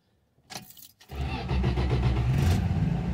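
A 1974 Dodge Dart that has sat unused for five years cranks briefly, pauses, then catches and settles into a loud, steady running idle close by.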